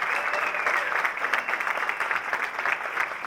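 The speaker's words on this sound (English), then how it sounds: "Please, let's have another big round of applause for them." Audience applause fills an alumni award ceremony for the College of Humanities, dense steady clapping held at a consistent level throughout.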